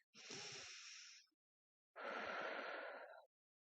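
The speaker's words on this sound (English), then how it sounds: "Now we're going to take a deep breath" Two long, breathy airflow sounds, an inhale then an exhale, each lasting over a second and separated by a short pause, close and soft, in a quiet bedtime setting.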